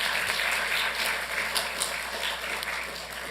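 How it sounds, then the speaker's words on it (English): City council meeting audience applauding, dense and continuous clapping from a room full of people that holds at an even level throughout, with no talking. "So I want to give her a round of applause for her efforts in supporting them as well."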